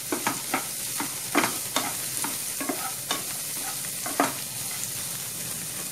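Chopped capsicum sizzles in a hot pan as it is stir-fried, a steady frying hiss broken by repeated scraping strokes of a spatula, close and clear with no talking.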